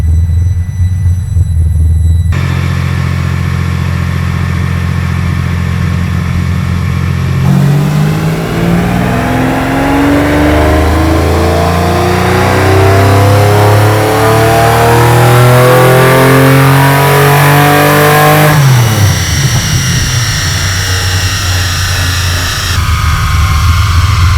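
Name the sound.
V12-powered Foxbody Mustang engine revving on a dyno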